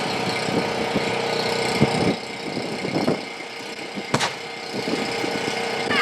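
A drill rig bores a blast hole into rock, a steady loud engine drone with grinding rumble and a few brief knocks and bursts, running continuously.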